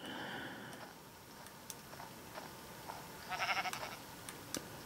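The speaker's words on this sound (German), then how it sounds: "Hier macht's doch eindeutig mäh." A burst of Minecraft sheep bleating stands out briefly partway through, set against a steady background hum with a few faint clicks.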